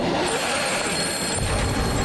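A telephone bell rings steadily and loudly for a couple of seconds, with a dense, continuous metallic jangle and no voices.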